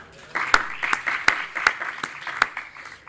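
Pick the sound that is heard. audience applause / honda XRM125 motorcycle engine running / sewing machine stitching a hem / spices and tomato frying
audience applause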